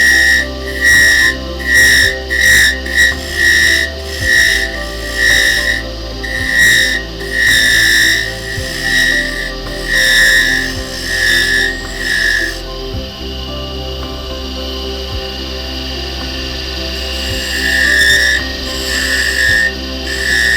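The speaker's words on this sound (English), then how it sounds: "so I'm going to use a 1/16 inch parting tool. Put just that little cut in there." Wood turning a honey dipper on a lathe, a 1/16 inch parting tool cutting a thin groove into the spinning wood, giving a steady high whine with repeated pulsing scrapes, close and alone with no talk.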